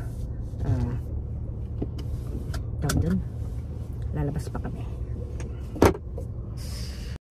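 A car idles nearby with a low, steady engine hum while a person talks over it, with a door or window sound partway through and a sharp click just before it cuts off.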